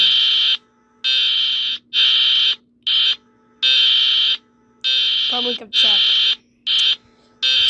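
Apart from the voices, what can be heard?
electronic alarm sound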